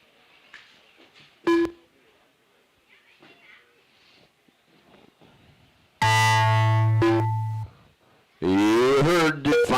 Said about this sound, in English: You heard the final buzzer.